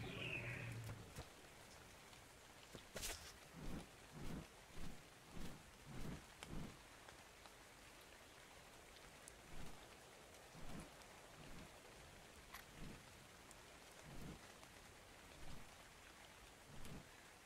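Quiet, continuous rainfall in ARK: Survival Evolved with a broad hiss and rhythmic low thuds repeating through the stretch, plus an occasional sharper crack.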